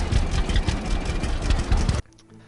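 A worn-sounding farm tractor idles in the Farmer's Dynasty video game, a loud, low rumbling chug for two seconds that then drops abruptly to a faint hum.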